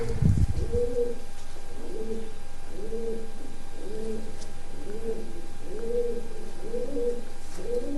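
Pigeons, including one with white eyes, give repeated low rolling coos in a regular rhythm, close and distinct, after a brief thump at the start.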